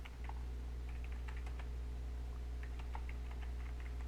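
Light tapping on a computer keyboard, a scatter of quick irregular keystrokes in short bursts over a steady low electrical hum, soft and close with no voices.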